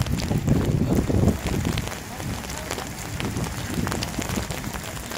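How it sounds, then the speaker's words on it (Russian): Steady rain patters during an outdoor Easter liturgy held at a burial site of fascism victims. It makes a constant wet hiss with brief taps of drops, plus some wind noise, and no clear voices over it. "как оросил Господь всех небесным дождем"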